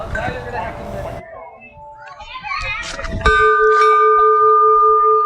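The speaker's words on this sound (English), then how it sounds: "I will show this bell. This bell, you will see." A bell at Bookworm Gardens is struck once and rings out with a sustained, clear tone after some background chatter and children's voices.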